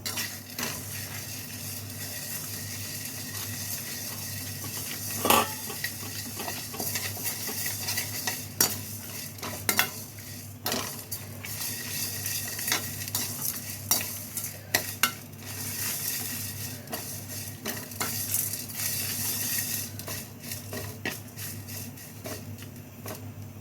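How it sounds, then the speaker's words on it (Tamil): Drumstick leaves and idli pieces being lightly stir-fried by the handful in a pan, a steady sizzle broken by repeated scrapes and clinks of the spoon against the metal, with no talking. "முருங்கைக்கீரை ஒரு கைப்பிடி அளவு சேர்த்து இதையும் லேசாக வறுத்து எடுத்துக்கலாம்"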